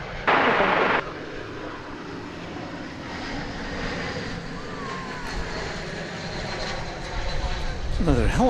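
An airplane engine drones steadily overhead at DFW Airport, a broad sustained roar that swells toward the end, with a brief burst of noise near the start.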